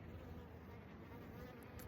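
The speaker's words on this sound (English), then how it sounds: "Oh, I love this beautiful bee who's with us now." A bee buzzes close by with a steady, continuous drone, faint and alone without any talk, lasting just under two seconds.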